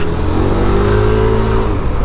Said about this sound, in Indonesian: Padahal nih kayak gini knalpot standar kenceng tuh kayak lebih gimana gitu cuy